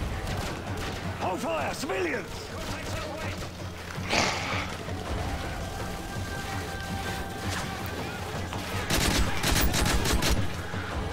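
Bursts of automatic AK-47 fire and explosions from a Modern Warfare 3 shooter game crackle in repeated volleys, with a voice talking over the battle noise.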